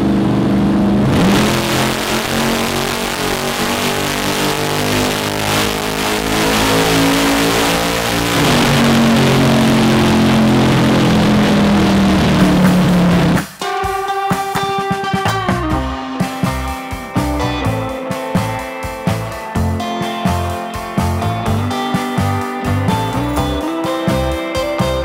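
A nitrous-equipped engine on a dynamometer, burning E85 fuel, roars loud and steady with a rising, revving pitch for about thirteen seconds before cutting off abruptly; a rhythmic, musical-sounding passage follows.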